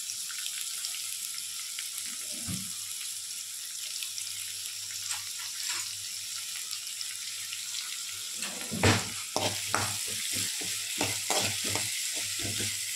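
Curry leaves and salt sizzling in a hot pan for a breakfast upma, a steady crackling fry with a few sharper spits and stirring scrapes toward the end, no talking.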